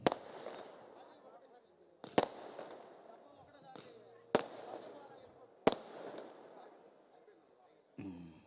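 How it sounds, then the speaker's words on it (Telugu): Firecrackers burst outdoors at a night-time 60th birthday celebration, four or five loud sharp bangs spaced about two seconds apart, each followed by crackling and echoing decay. "ఇక క్రాకర్స్ ఆపండి బిడ్డ."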